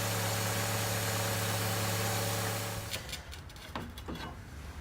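A 2004 Saab 9-3 engine idles with a steady low hum for a few seconds, then shuts off, leaving faint clicks and handling noises.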